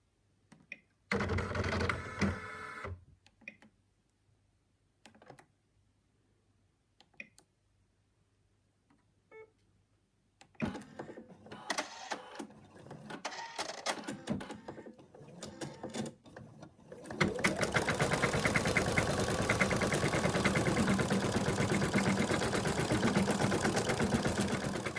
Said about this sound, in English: machine has outlined the arms and legs and the tail